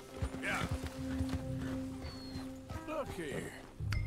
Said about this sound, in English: That is a painted horse.